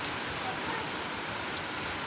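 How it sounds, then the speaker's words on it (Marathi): Heavy rain pouring steadily onto surfaces in a Konkan village in May, a dense, continuous hiss with no pauses. "तुम्ही बघू शकता खूप जोरातून पाऊस आलाय."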